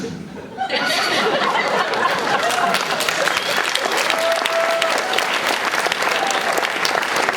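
Sustained applause from a live panel audience at San Diego Comic-Con, with scattered chuckles and laughter; it swells in after a brief quiet start and stays loud and dense throughout, with a faint steady tone running through the middle.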